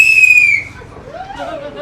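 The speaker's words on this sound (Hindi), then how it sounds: "सीटी की थे थोड़ी, बजा के दिखाओ।" A whistle shrieks in one loud, steady blast, cuts off after about half a second, and then a softer rising and falling tone follows over quiet room noise.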